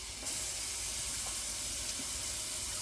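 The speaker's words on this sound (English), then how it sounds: "I am going to add just a little bit of water to this." Water poured from a tap or container into a crock pot holding pork for carnitas, a steady splashing hiss that starts abruptly and runs on evenly, close by.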